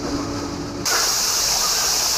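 Water rushes over rapids in a restored former emperor's park in Japan, a steady broadband roar that jumps abruptly louder and brighter partway through and then holds without any talking.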